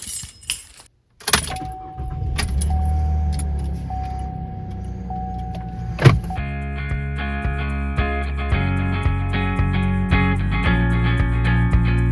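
Someone climbs into a truck: keys jangle, a door thuds shut, then the engine and power windows whir with a steady motor hum that fills the rest of the stretch, close and fairly loud.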